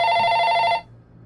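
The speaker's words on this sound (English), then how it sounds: "Sounds like an old office phone." An old office telephone bell rings in a video game cutscene, a loud, steady electronic ring lasting under a second before cutting off abruptly into quiet.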